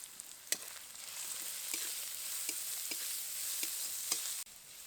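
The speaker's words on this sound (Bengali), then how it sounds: "সমস্ত সবজিগুলোকে খুব হালকা করে ভেজে নিয়েছি" Chopped garlic, ginger, onion, green chilli, capsicum and carrot lightly frying in a pan for momo filling; a quiet, even hiss with occasional soft stirring clicks, faint and close, cutting off briefly near the end.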